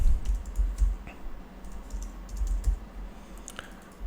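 Typing on a computer keyboard while entering text into a Shopify app: a steady run of close, light key taps at an irregular pace, with no talking.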